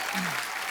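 Loud applause from a television comedy show studio audience, a dense wash of clapping filling the short moment with a faint voice tone passing through.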